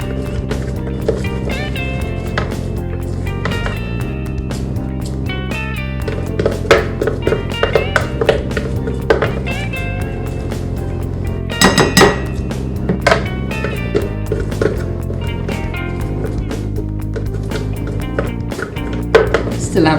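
Spatula scrapes leftover mixture from a Vitamix blender jar for lemon balls and bake-less brownies, giving a string of quick taps and scrapes over steady background music.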